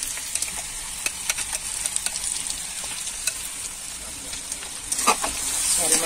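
Spices fry in a pan for a drumstick curry, a close steady sizzle broken by frequent scraping stirs and utensil taps, rising slightly toward the end.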